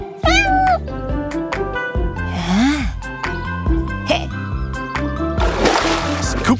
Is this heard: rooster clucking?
no